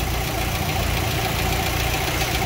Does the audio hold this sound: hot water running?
no